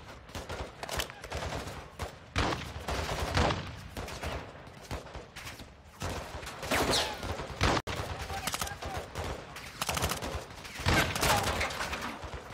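Rapid bursts of gunfire from the Modern Warfare 2 campaign on Xbox Series X, dense and continuous across the whole stretch, loud volleys and fusillades with brief pauses between them.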